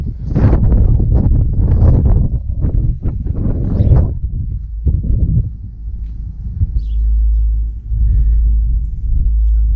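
Wind buffeting a microphone outdoors beside a Krone Big M mower, heavy low rumbling gusts that come in bursts, ease off, then swell into a steady low roar.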